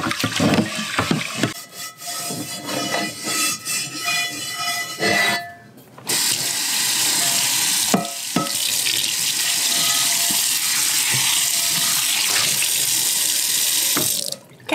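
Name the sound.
washing a dirty cast iron pan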